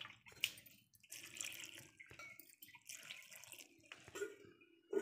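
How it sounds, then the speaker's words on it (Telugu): Water poured from a glass onto toor dal for gongura pappu, a few separate splashy bursts of pouring with short quiet gaps, fairly soft and close. "1 కప్పు కందిపప్పు తీసుకున్నాం కదండి, 3 గ్లాసులు నీళ్ళు వేసుకొస్తున్నాం."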